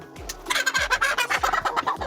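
Layer chickens in a poultry house calling in a rapid, repeated gobbling, clucking chorus, loud and close, several birds overlapping in quick rhythmic bursts with no talking.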